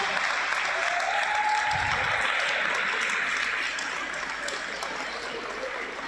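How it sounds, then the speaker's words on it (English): A crowd at a men's Premier League 2 basketball grand final in the ACT applauds the runners-up in a dense, steady round of clapping that fills the clip, fading slightly toward the end. "Big round of applause for our runners-up"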